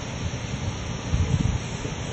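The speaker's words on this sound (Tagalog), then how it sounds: "Grabe talaga ang lakas ng hangin" Steady broadband wind roar over an eggplant field, with low gusty rumbles, continuous and fairly loud throughout, no voices.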